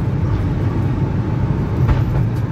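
A train passes close by at night while a Fiat Fiorino van drives down a road near Jaguarão, a steady heavy low rumble and rattle that stays loud through the whole stretch without letup.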